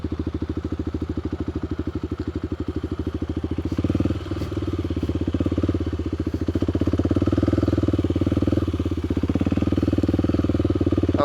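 Kawasaki KLX300 dual sport motorcycle riding off-road, its single-cylinder engine chugging loud and close with a steady rapid pulse, swelling and easing as the throttle changes.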